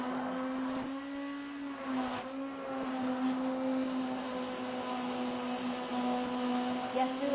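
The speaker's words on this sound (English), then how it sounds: "And this stick blender is intense." A stick blender whirs through garlic soup, a steady high motor hum holding one pitch with slight dips as the load changes, close and continuous for several seconds.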